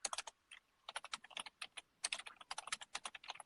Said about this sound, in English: I hear Heidi typing to you furiously right now